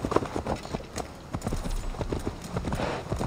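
Horse hooves clip-clop in the game Assassin's Creed Valhalla, a close, rhythmic trotting patter of sharp hoof strikes running throughout, with a brief snort or whinny mixed in.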